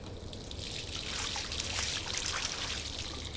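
Water pours in the video game Life is Strange, a steady trickling and splashing stream that swells slightly and runs continuously at close range without voices.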